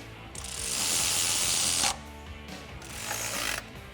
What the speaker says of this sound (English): Now we can go ahead and tighten our alternator down